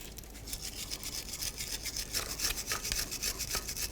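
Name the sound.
brush scrubbing and cleaning a brake caliper bracket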